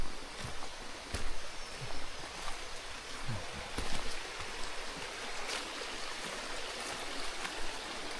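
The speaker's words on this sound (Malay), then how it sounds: "Bawah ni sungai." River stream flowing beneath a log bridge in a forest, a steady broadband rush of water with small splashes and trickles, close and fairly loud, no talk.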